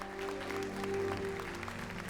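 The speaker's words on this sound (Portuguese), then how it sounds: "Pode aplaudir ao Senhor." A church congregation at a Sunday Mother's Day morning service claps softly and steadily, a faint patter blended with sustained musical tones.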